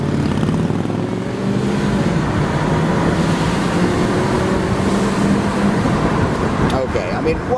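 A 2008 Saab 9-3 convertible launches hard from a standstill, its engine a steady, loud roar with rising tones toward the end, with some talking.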